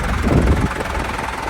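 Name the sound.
John Deere tractor engine running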